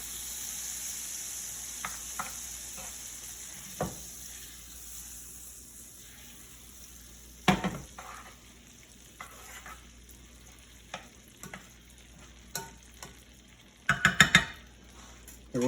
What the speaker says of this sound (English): We want to stir that around. Get the butter melted.